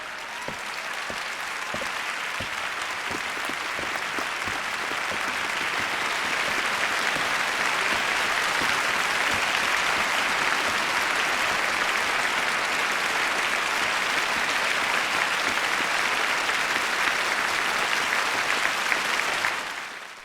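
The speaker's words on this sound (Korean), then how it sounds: "객석을 가득 채운 관객들의 엄청난 박수 소리" A full concert hall audience bursts into loud, sustained applause before a piano recital, dense clapping that swells and holds for about twenty seconds, then fades at the end.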